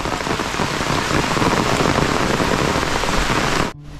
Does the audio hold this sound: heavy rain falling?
yes